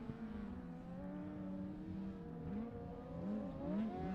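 Superbikes in a Masters Superbike Championship race sweep past toward the last lap flag, their engine whine rising and shifting in pitch as they approach at a moderate distance, steady and alone without talk.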